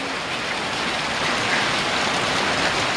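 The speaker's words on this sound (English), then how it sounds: "I got hailstones coming into the garage." Hailstones fall during a severe storm, seen from an open garage, producing a dense, loud, continuous hiss and patter of impacts with no pauses or voices.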